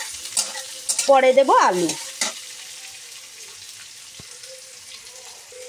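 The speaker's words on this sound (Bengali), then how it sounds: "তো আমি আগে উচ্ছে ভেজে নিচ্ছি" Bitter gourd (uchhe) fries in a pan with a steady, soft sizzle and occasional stirring clinks, while someone speaks briefly over it early on.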